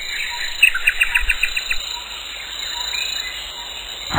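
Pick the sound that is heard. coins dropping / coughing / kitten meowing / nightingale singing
nightingale singing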